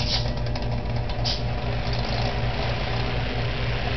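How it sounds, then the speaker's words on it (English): Vintage M E Berstead Zero 8 inch electric fan, once used in a Wisconsin bar, runs with a steady low motor hum and faint rhythmic rattle, close and continuous with no talking. "But he's a sweet running little fan."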